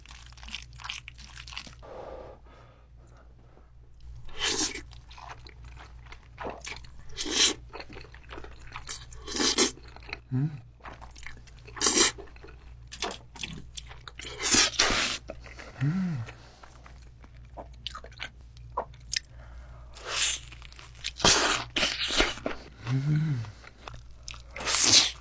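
Jjajang ramen, green onion kimchi and seasoned fried chicken being eaten up close, with repeated crisp crunches and bites spaced through the clip, interspersed with wet chewing and soft mouth sounds, no talking.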